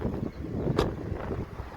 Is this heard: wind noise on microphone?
yes